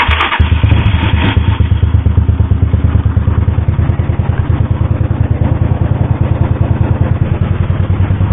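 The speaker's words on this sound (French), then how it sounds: "Voilà, la moto fonctionne." A Yamaha SR 125 single-cylinder motorcycle, just back from an oil change, fires up and settles into a loud, steady, close-up idle with an even, rapid thumping rhythm and no talk.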